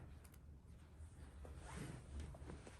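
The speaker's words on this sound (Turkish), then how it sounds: "Diktikten sonra fermuarını kapatalım" A trouser zipper is pulled shut during the sewing of slim-leg trousers, giving soft, quiet ratcheting strokes up close against a faint room hiss.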